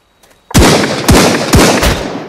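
Gunfire in the survival game Sunkenland: three or four loud, sharp shots spaced about half a second apart, each with a booming low thump and a ringing tail, close and alone after a brief quiet start.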